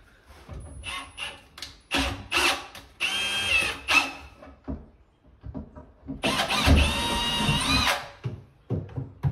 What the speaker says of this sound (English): And I'll try to get this drill in here.